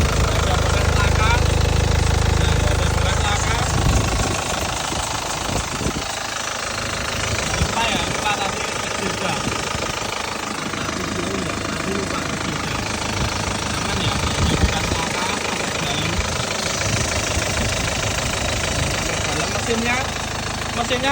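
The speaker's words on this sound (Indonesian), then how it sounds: "Mesinnya juga stabil banget ya, stasionernya stabil banget, anteng ya, anteng, stabil." A 2007 Isuzu Panther LS Turbo diesel engine idles steadily and loudly close by, a continuous rumbling drone with a knocking texture that carries through the whole stretch while someone talks over it.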